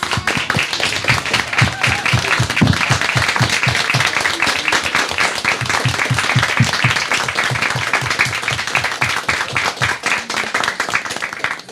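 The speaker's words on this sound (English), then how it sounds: "If we could give them a round of applause." Audience applause for a group of children's advocates at a school board meeting, a steady dense clapping that fills the room for about twelve seconds without pause.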